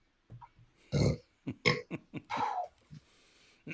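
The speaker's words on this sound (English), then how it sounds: "a little bit of burp came out my nose" Short bursts of close, guttural burping, several rough eructations in an uneven sequence with quiet gaps between them.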